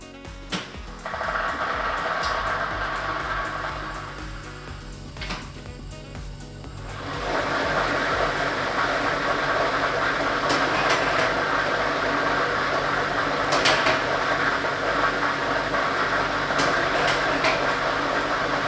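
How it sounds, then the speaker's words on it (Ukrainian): A lottery drawing machine (drum B, ball set number 4) switches on for a state lottery draw: a steady mechanical whir rises and then holds, with rattling and clattering of numbered balls tumbling throughout, loud and continuous, with no talk. "І ми вмикаємо лототрон."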